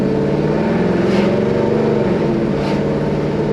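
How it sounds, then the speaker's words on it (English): A 1969 Chevy Chevelle Malibu classic car runs with a steady, loud engine drone and slight rises in pitch, heard up close without talk. "But car sounds really good."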